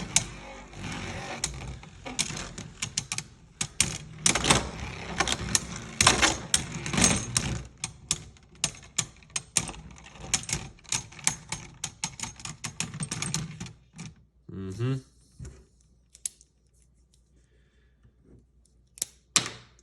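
Beyblade spinning tops launched into a stadium and clashing, a dense run of rapid sharp clicks and metallic knocks that thins into sparse scattered taps and then near silence, close and fairly loud.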